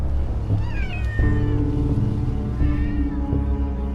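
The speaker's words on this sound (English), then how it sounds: "There, a tree swarms with cats." Many cats meowing from a tree, overlapping drawn-out meows and wails from several animals, close and loud, continuous throughout with no talking.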